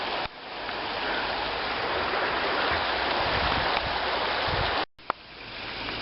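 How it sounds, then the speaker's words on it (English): A small mountain waterfall pours into a little pool, making a steady, fairly close rushing hiss of water that continues for several seconds before a brief cut and a sharp knock. "there's a little waterfall there coming down from the top of the mountain and flowing into this little pool of water here"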